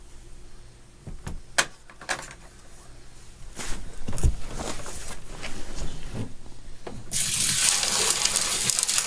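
Water pouring into a fish tank over rocks: a few sharp clinks and splashes, then a continuous gushing fill that grows louder and brighter toward the end.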